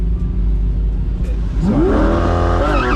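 An Audi R8 on a hypercar event run idles low, then revs and accelerates hard, its engine note climbing sharply in rising sweeps, loud and close.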